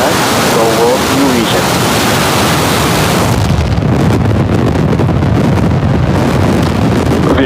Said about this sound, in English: And the liftoff is Falcon 9